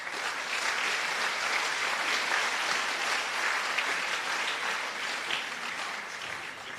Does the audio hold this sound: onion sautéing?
no